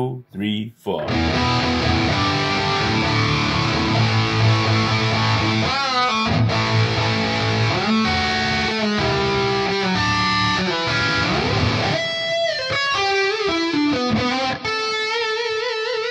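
Distorted electric guitar through an amp simulator's drive setting, inserted on an Allen & Heath SQ mixer, plays a sustained, driven lead line with bends and chords, loud and continuous, with no talking.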